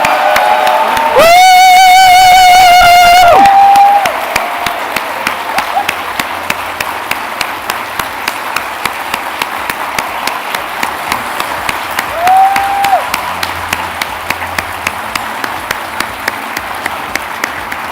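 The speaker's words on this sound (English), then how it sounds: "Please, a big round of applause." An audience at a closing ceremony of a four-day event applauds, with dense loud clapping, then a tonal sound briefly overlays it before thinning to scattered claps and a steady background bed.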